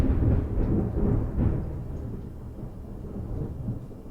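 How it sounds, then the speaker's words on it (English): Deep, loud rolling thunder from a thunderstorm rumbles throughout, swelling in several low waves with rain hissing beneath and no voices. "We're going to hear thunder here soon."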